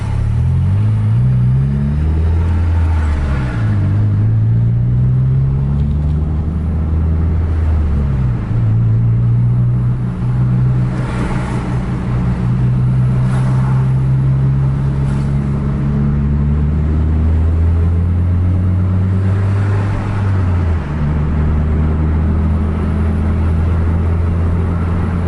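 A bus pulling out of Langsa terminal in Aceh, its engine climbing through repeated hard accelerations and gear changes, loud and continuous with no talk.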